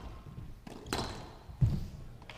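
Squash ball struck during a rally at the men's world team championship, a few sharp thuds and smacks off racket and walls, fairly quiet with court ambience.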